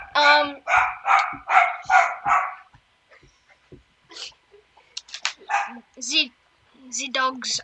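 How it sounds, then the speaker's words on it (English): Several dogs bark loudly in a rapid burst of repeated barks, then fall quieter, with a few yips and whimpers between bursts, while people talk nearby. "The dogs are loud."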